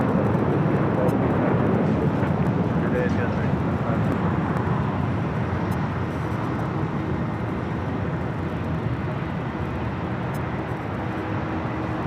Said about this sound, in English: we're clear for takeoff and